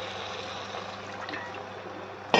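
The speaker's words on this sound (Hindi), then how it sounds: "तो अब मैं इसमें डाल दूँगी थोड़ा पानी।" Water is poured steadily into a pan of cooking badi (lentil dumpling) vegetable curry with browned spices, a continuous close splashing rush that ends in a brief sharp clatter.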